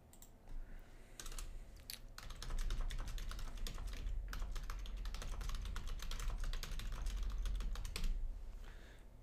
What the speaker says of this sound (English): you hear all of that keyboard racket